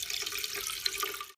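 Tap water runs into a glass jar holding bread, a brief close splashing, gurgling pour that fades out quickly at the end.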